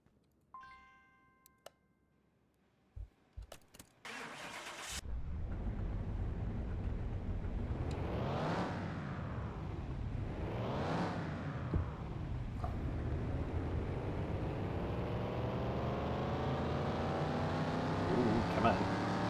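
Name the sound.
car engine running on a dyno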